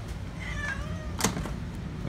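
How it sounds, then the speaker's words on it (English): Domestic cat meowing nearby in a barn attic workspace during restoration of a 1960s Torcan box fan, a few short rising meows over low background rumble, with a brief knock near the middle. "And evidently my cat wants to help."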